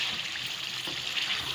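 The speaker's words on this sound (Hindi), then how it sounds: "1 गिलास पानी शामिल कर दें इसके अंदर" A glass of water poured into a pot of turnip and beef curry while it cooks. It makes a short, steady, close rush of liquid with no talk.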